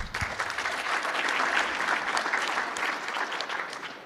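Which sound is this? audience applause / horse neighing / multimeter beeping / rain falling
audience applause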